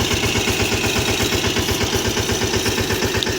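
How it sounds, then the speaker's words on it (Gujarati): A tractor engine runs steadily in a mango orchard during pesticide spraying, with a loud, close, rapid chugging pulse that stays even throughout with no voices. "ટ્રેક્ટર પ્રતિકભાઈ આંબામાં દવા છાંટવાનું ચાલુ કરી રહ્યું છે."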